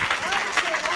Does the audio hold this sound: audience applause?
yes